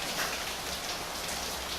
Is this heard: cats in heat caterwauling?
no